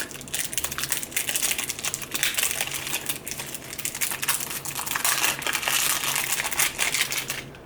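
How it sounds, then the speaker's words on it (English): Cellophane wrap is peeled and crinkled off a silver perfume box, producing continuous close, dense crackling and rustling that swells and fades in waves with no speech. "Let's take the cellophane off."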